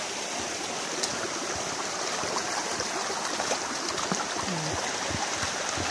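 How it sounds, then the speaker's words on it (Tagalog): A waterfall in a cool, forested spot gives a steady, broad rushing roar that holds evenly throughout, close and dense. "Ayan yung falls guys."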